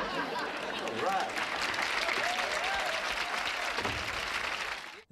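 Wild studio audience applause greeting Kramer's entrance on Seinfeld, a loud sustained roar of clapping mixed with whoops and cheers, with a voice briefly heard in the mix before it cuts off sharply.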